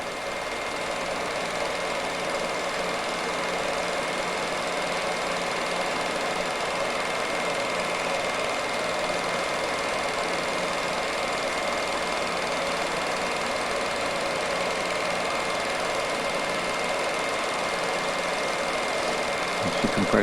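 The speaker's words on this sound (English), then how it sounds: "This is the compressor." The compressor plant at the Springhill coal mines runs as a steady, dense mechanical drone with a faint rhythmic chug, loud and unchanging throughout.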